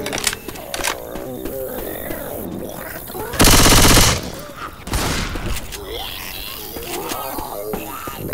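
Rapid gunfire during a zombie fight in Left 4 Dead 2, with sharp shots throughout and a dense burst of sustained automatic fire in the middle, close and loud under shouted character voices and game noise.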